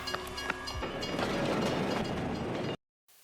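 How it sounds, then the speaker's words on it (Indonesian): A train rolls past nearby with a continuous rumbling clatter for under three seconds, then the sound cuts off abruptly into silence, with no speech. "tapi ia tak berhasil menangkap Yojin kembali karena kereta melintas."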